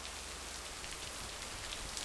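Heavy rain in the video game Lake: a dense, constant hiss of downpour at even level with a low rumbling undertone, steady throughout and free of voices.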